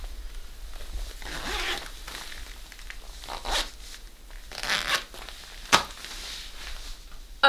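Zipper on a white PVC catsuit being worked in several quick runs, near and fairly quiet, with rustling of the shiny material between pulls and a sharp zip near the end.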